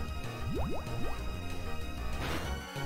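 Bubble attack in Pokémon Black 2, a quick run of rising bloopy pops and watery drips over game music, short and fairly loud.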